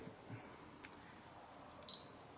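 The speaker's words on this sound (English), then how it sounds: "Here we got the beeper, again what you're hearing" One short, high electronic beep from a Rheem thermostat sounds clearly against a near-silent room, preceded by faint clicks.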